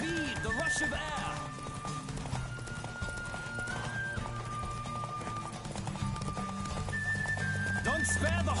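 Galloping horse in a race in The Witcher 3, rapid hoofbeats thudding under a continuous game music score and voices, with wind rush and occasional whinnies mixed in.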